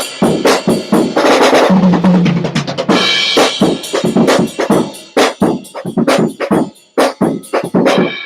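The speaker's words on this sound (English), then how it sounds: "This is the trap set from England. They make these from England." English-made drum trap set played up close, with loud sharp snare and tom hits, cymbal wash and kick thumps in rapid, irregular fills and grooves, no voices.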